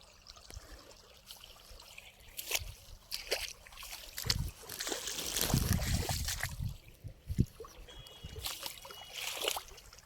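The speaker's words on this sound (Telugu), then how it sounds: "నీళ్ళు వస్తున్నాయి. బావి నీళ్ళు ఇవి." Well water gushing from an opened valve, a splashing, sloshing flow that swells in the middle and stays close, with a few louder bursts of water.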